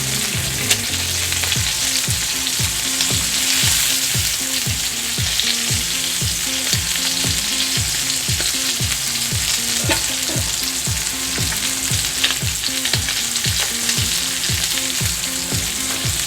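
Pork chops fry in butter in a hot pan, giving a steady loud sizzle with a busy, crackling spatter throughout and repeated rhythmic scraping or basting strokes across the pan.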